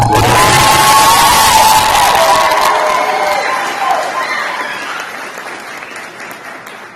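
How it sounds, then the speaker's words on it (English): Loud applause and cheering from a graduation audience at Ember Charter Schools, with whoops over dense clapping that slowly fades across the clip. "Another round of applause to our graduates."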